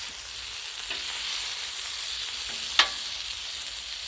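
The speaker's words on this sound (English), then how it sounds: "Ooh, getting a nice sear." Country style ribs sear on a Blackstone griddle in an even, constant sizzle, with a couple of faint scrapes and one sharp tap near the end.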